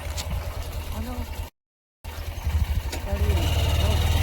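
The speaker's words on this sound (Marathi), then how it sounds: "त्या आज्या गाडी चालवते ते बघ" A tractor engine running nearby makes a steady low rumble that grows stronger toward the end, broken by a brief dropout, while people talk over it.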